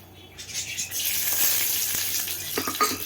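Tempering spices, including mustard seeds, crackling and sizzling in hot oil in a wok, a soft hiss with small pops and spatters that swells after a quiet start.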